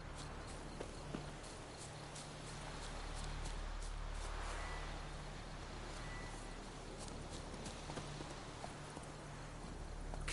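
Horse hooves in The Witcher 3 video game, a steady clip-clop of footfalls running through the whole stretch at moderate loudness over a constant low game ambience, with no talk.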